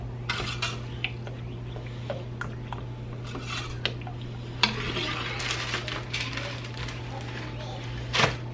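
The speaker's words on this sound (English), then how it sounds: "Give this a good stir." Spoon stirring tomato sauce with a little sugar in a metal pot, giving soft scraping and scattered light clinks against a steady low hum, close and fairly quiet.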